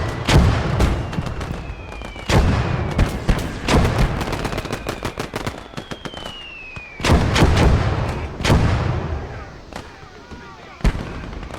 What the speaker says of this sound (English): I think that's the mortars.